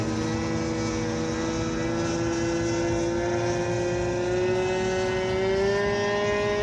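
A large radio-controlled PC-6 model airplane comes in to land, its propeller engine giving a loud, steady buzzing drone whose pitch slowly rises and swells near the end, no talking.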